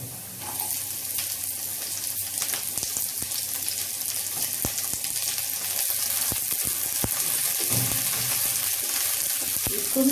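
Chopped onions sizzle and fry in a pan while being browned for a special khichdi, a steady crackling hiss with occasional scraping stirs, close and moderately loud, no voices.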